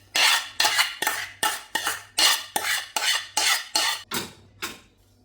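Sautéed masala paste scraped from a vessel into a pan of cleaned beef for a Kerala-style beef curry, heard as about a dozen sharp, evenly spaced metal scrapes and clinks, close and loud.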